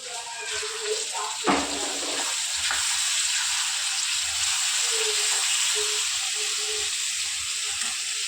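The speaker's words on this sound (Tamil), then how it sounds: "இந்த அளவுக்கு வதக்கணும். பாருங்க, தக்காளி போடுறேன்." Tomatoes tossed into a hot pan sizzle loudly and continuously, with a clatter as they land and occasional stirring, close and steady.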